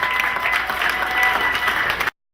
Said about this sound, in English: can I get a round of applause for the people that have been here for two of the films tonight?